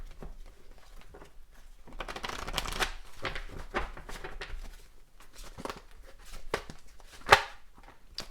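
Tarot cards being shuffled by hand nearby, a soft papery riffling and patter that swells and fades in bursts with a sharper snap near the end, quiet overall.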